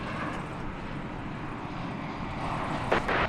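An airplane takes off at DFW Airport, a broad, steady engine roar that swells slightly toward the end, heard from a distance.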